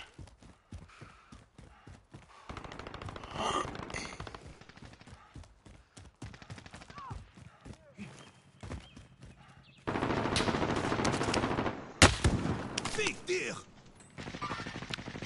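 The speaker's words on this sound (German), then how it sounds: "Ich werde beschossen." Gunfire aimed at the player in a PS4 video game: bursts of rapid cracking shots in clusters, with louder sustained fire near the end and sparse talk in between.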